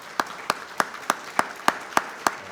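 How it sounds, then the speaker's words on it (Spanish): Single claps ring out at an even pace, about nine over a couple of seconds, a sparse, slow welcoming applause for Marcos Macón at a conference, sounding like one or a few people clapping rather than a full crowd. "con este aplauso le damos la bienvenida a Marcos Macón"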